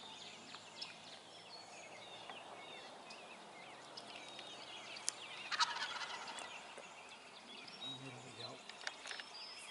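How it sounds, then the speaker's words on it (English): Wild spring turkeys gobbling outdoors in Wisconsin or Michigan, several distant rattling gobbles over a faint background, with a louder burst midway. "it was just tough just to sit there and listen to them all morning"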